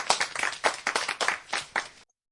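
An audience applauds a speaker at a humanist talk with close, distinct claps in loose uneven bursts. The sound is fairly loud and stops abruptly into silence near the end.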